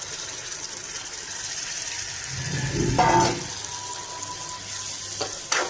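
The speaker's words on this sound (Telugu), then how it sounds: "తర్వాత కొద్దిగా వాటర్ అనేది వేసుకుంటానండి" A small splash of water is poured into a brinjal and cashew curry frying in a pan, giving a short gushing sizzle near the middle, over a steady background hiss.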